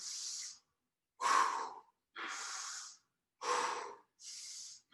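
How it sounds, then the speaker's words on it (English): Deep breaths drawn in and pushed out while holding a squat, five slow, even breaths in alternating rhythm, close and clear, with silent pauses between and no speech. "Pause at the bottom for an exhale, a full inhale and exhale, an inhale, and then come back up on an exhale."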